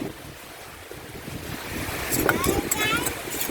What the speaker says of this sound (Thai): โอ้ฝนลมพี่น้อง